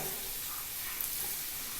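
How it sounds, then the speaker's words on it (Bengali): A paratha made from mixed atta and maida flour sizzles steadily in a hot pan, a constant close, bright frying hiss with no talk. "এখানে আরেকটা পরোটা আমার ভাজা হচ্ছে।"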